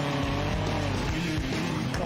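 A car slides on the road with its wheels spinning, and the engine revs and tires squeal through the slide. A voice can be heard faintly in the background.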